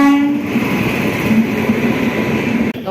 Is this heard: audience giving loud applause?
no